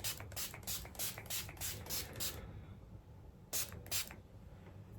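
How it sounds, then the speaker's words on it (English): Body spray from an aerosol can hissing in short bursts: a rapid series of about eight quick sprays, a pause, then two more, close and fairly loud with no talking. "I just love spraying body sprays on me."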